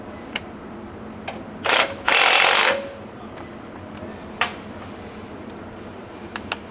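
A LandCruiser 300's suspension bolts are tightened while a Panhard corrector is fitted, producing scattered tool clicks and two loud bursts of a powered wrench rattling for roughly half a second each, close in a quiet workshop.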